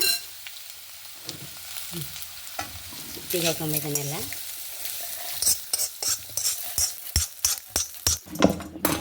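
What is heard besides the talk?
wood apple chutney ingredients being roasted and stirred in pan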